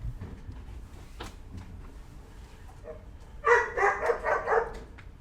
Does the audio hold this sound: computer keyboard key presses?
no